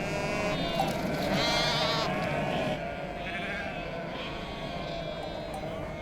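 A flock of sheep guarded by dogs in a Middle Eastern desert setting bleats continuously, many overlapping calls near and far forming a steady dense chorus, louder in the first few seconds then settling.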